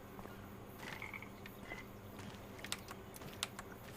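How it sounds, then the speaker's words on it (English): Frogs croak in Farming Simulator 25, a faint chorus of short repeated calls mixed with scattered clicks and ambient game noise. "I hear frogs."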